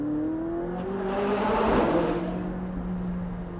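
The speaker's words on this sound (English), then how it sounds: "just hearing those gurgles of the exhaust around that turn" A McLaren 675LT supercar's exhaust burbles and gurgles as it rounds a turn, a deep rumbling drone swelling louder then easing off, with no voices.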